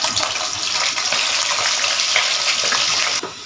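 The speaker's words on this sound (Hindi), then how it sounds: "इसी ऑयल में हम चिकन को फ्राई कर लेंगे।" Chicken pieces fry in hot oil in a pan for chicken dum biryani, in the same oil used for the onions. A loud, steady sizzle hisses without a break and eases slightly at the very end.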